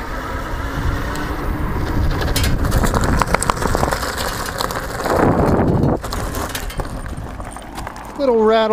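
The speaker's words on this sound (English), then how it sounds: "Little rattle from that chain guard" An electric bike rattling on a test ride, its chain guard clattering in quick irregular bursts over mechanical whirring and rolling noise, close and fairly loud.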